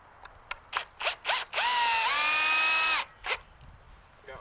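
A cordless power drill drives a screw into a wooden greenhouse door, short whirring bursts followed by one long rising whine that steps up in pitch, close and loud in a quiet outdoor setting.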